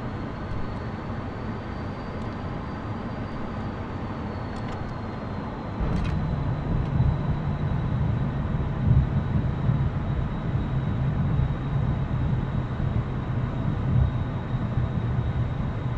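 An F-14B jet landing in a flight simulator, a steady roar with a high whine that jumps to a heavier, louder rumble partway through, with no voices heard.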